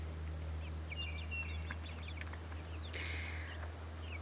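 Backyard chickens and a rooster, including a barred rock Easter egger type, cluck and chirp in short calls over a constant low electrical hum, with one louder squawk near the end.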